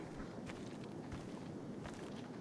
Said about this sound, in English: I hear steps on the left too.